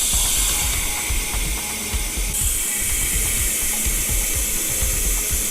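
A power bleeder pushes brake fluid through a bicycle hydraulic brake system while the reservoir is topped up, giving a continuous close mechanical ratcheting whir with a steady hiss and rapid clicking pulses.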